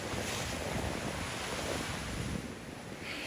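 Sea waves where Čikat Bay on the island of Lošinj meets the open sea, a steady broadband surf wash mixed with wind noise buffeting the microphone, fairly constant and without voices.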